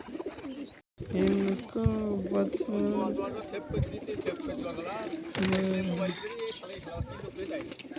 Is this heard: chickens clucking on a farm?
no